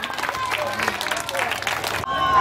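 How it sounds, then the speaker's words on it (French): An audience at the La Ruche festival applauds as a storyteller named Pacom is called up. The dense, steady clapping fills about two seconds, then cuts off abruptly into a quieter, hissy room tone. "Donc, applaudissez pour lui."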